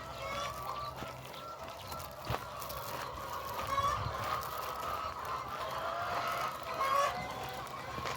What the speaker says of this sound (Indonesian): Mungkin ada ribuan ayam.